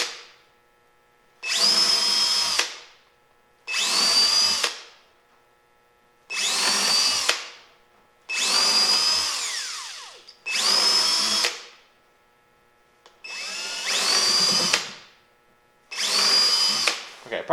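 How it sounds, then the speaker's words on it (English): A Harbor Freight Hercules power drill pre-drilling screw holes in a wooden board, eight separate high-pitched whirring bursts of about a second each, separated by short quiet pauses, close to the microphone. "For drilling any holes, we need to pre-drill for the screws."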